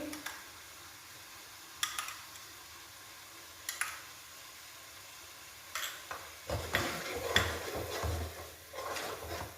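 A spoon stirs kelaji masala with yogurt in a pan, giving a few faint, separate scrapes and clinks at first, then louder repeated stirring with a soft sizzle, no talking.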